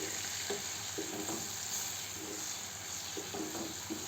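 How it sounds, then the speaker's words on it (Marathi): Spices and chopped bell pepper stirred in a pan over low heat, a steady frying sizzle with soft scraping strokes of the spoon recurring every half second or so, close and continuous. "चांगल्याने फिरवून घेऊ।"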